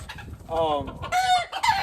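Gamefowl roosters and chickens in a pen cluck and crow nearby, with a drawn-out crow followed by higher, strained calls over soft background clucking.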